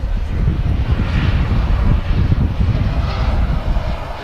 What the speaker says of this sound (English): we have, yeah, a 350 1000 on the taxi out